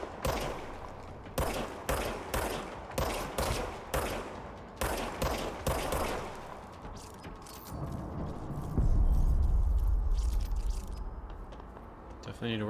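A gun fires in the shooter game Control in repeated bursts of sharp shots with short gaps, followed by a heavier low rumbling blast, while a player talks over the action.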